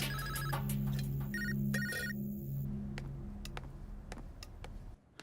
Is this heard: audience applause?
no